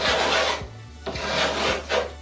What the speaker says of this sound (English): take the metal file and make long, deep gouges along the entire length of the PVC